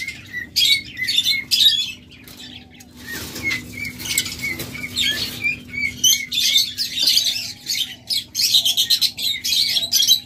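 Lovebirds at a bird farm chirp in dense, rapid bursts, with wings flapping and fluttering nearby; the calls come in clusters with brief gaps and no talking.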